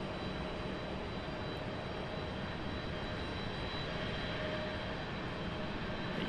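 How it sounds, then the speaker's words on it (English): An aircraft going around at Raleigh-Durham airport passes close overhead, a steady broad jet roar with faint engine whine, continuous and fairly loud throughout with no talk. "That departure, or the go around is flying right over in front of us."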